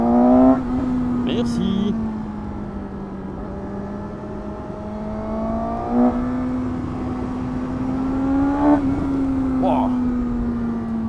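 A 114 hp Suzuki GSX-S 750 motorcycle engine hums steadily, rising in pitch as the rider pulls through a rev climb, while a voice speaks briefly over it.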